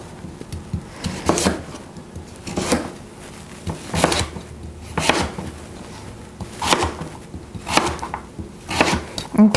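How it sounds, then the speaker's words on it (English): A knife chops orange yams (sweet potatoes) into small cubes on a cutting board. The cuts come in close, distinct bursts at a steady rhythm of about one per second, with light scraping between them. "now I'm gonna chop another medium-sized sweet potato"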